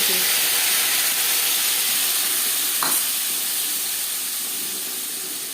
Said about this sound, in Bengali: পনেরো কুড়ি সেকেন্ড জিরে ভেজে নেওয়ার পর দিয়ে দেবো টমেটো